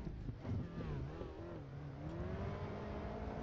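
A car engine in a VR driving simulator game cranks into life and then settles into a rising, revving hum with tonal whine, fairly loud and continuous with faint background noise.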